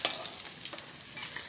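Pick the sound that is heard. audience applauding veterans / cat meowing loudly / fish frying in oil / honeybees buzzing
fish frying in oil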